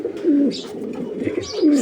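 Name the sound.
racing pigeon cooing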